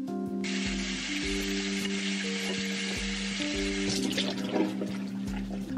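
Running tap water rinses makeup brushes in a bathroom sink, a steady close hiss of flowing water with splashing and gurgling shifts as the brushes move under the stream, no voices.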